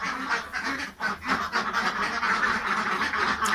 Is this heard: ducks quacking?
yes